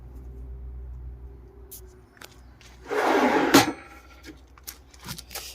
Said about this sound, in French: Un tiroir pour les petits ustensiles.